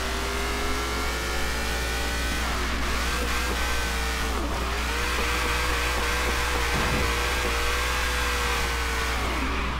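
A race car engine in the video game Forza drones loudly and continuously, its pitch rising and dipping through repeated revs and gear shifts, with no talking.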